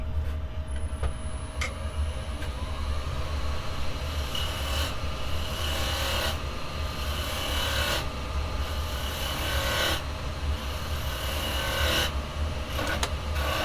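A wooden bangle spinning on a lathe while a small carbide cutter makes a finishing cut, giving a continuous low rumbling hum with a faint scraping texture and soft periodic swells, steady and unbroken with no talk.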